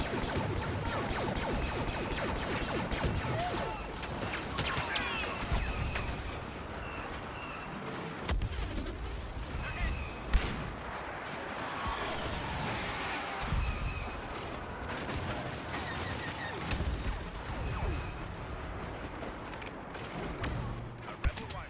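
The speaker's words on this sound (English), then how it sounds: "how quickly I decommission an enemy turret after it opens fire on me" Turret blaster fire and surrounding battle gunfire in the Star Wars Battlefront beta multiplayer, a dense, continuous barrage of shots and blasts at steady loudness throughout, with scattered sharper bursts.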